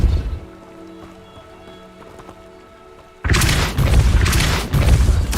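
A Depulso spell cast in Hogwarts Legacy: after a quiet stretch of low hum, a loud, sudden burst erupts and holds as a dense, crackling blast, close and forceful.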